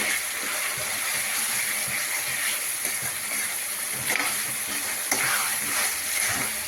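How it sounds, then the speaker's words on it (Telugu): Minced mutton keema fries over a high flame after garlic paste is mixed in, with a continuous close, watery sizzle and occasional stirring scrapes throughout, without speech. "దీన్ని హై ఫ్లేమ్లో పెట్టుకొని ఒక 5 మినిట్స్ బాగా ఫ్రై చేసుకోవాలండి."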